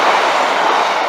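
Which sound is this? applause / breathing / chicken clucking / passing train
passing train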